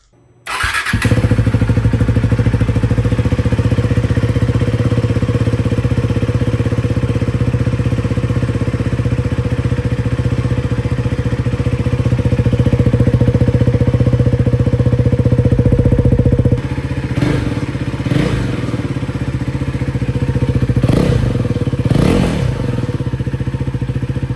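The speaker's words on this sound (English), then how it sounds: "This is going to be a cold start on a Leovins." A Husqvarna Svartpilen motorcycle with a Leo Vince exhaust cranks from cold and catches, then settles into a steady, loud idle with a low throb, a few revs and clatters near the end.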